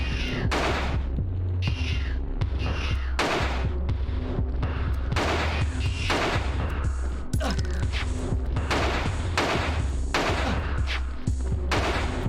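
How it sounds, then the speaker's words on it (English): Pistol shots fired in the video game Alone in the Dark, a rapid series of loud, sharp bangs repeating at irregular intervals over a low background rumble. "We're gonna use the pistol on you."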